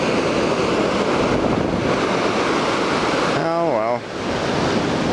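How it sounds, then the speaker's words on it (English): Ocean surf surges steadily and loudly throughout with constant wind rush, while a person talks briefly near the end over the water. "Interesting how wave action works."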